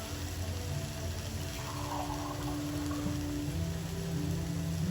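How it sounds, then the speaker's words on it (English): Water poured into a thick spice paste in a cooking pan for chicken paratal, a steady, continuous splashing wash with a low sizzling hum beneath, close and even throughout. "So now you add in some water."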